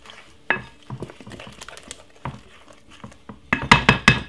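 A spoon stirring cinnamon sponge cake mixture in a bowl, irregular clinks and scrapes against the bowl, sparse at first, then a quick loud run of taps at the end.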